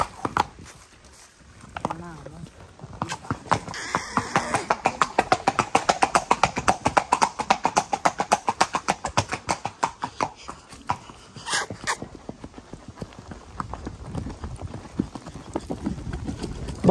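Horse hooves clip-clop in a steady walking rhythm on a farm, growing louder and then fading, while people talk nearby.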